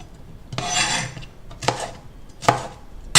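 A knife chops vegetables into large pieces on a cutting board for a stir fry, giving three separate rasping, scraping cuts spaced by short pauses, close and crisp, with no speech.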